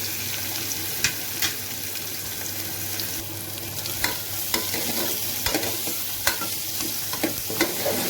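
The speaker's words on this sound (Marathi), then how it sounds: "यात मी घालणार आहे हे 2 कांदे चिरून घेतलेले आहेत बारीक." Finely chopped onions frying in oil in a pan for chickpea masala, with a steady close sizzle broken by scattered scrapes and knocks of a spoon stirring them.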